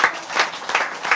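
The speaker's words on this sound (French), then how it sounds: "Katia, Nina, Marie, vous pouvez les applaudir toutes parce qu'il y a vraiment du monde" Audience clapping in a crowd, a short burst of applause with rhythmic pulses, moderately loud and fairly close.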